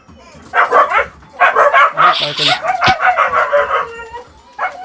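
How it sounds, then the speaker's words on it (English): Several dogs bark repeatedly, loud and close, with yips and whimpers mixed in, while people talk over them during a tabletop role-playing podcast recording. "Ah, dogs."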